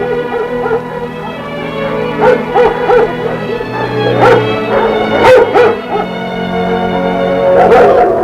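Several large German Shepherd dogs in scout dog training bark and yip repeatedly, loud and close, with some whimpering between the barks.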